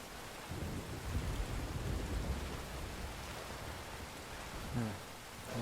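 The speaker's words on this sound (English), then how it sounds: "That rain just won't let up." Steady rain with low rumbling thunder fills a stormy scene in the video game Metal Gear Solid V, a dense, fairly quiet wash with a brief deeper rumble near the end.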